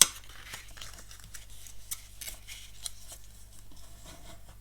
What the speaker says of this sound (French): je suis en train de marquer tous mes plis